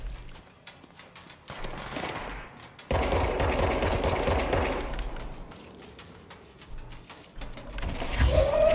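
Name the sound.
gunfire in video game Control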